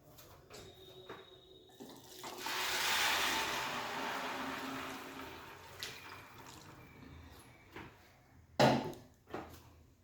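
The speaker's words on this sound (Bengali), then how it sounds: "জলটা দিয়ে দিলাম।" Water is poured into a pot of polao rice in a home kitchen, a steady broad splashing stream lasting several seconds, then tapering off before a few brief sharp knocks near the end.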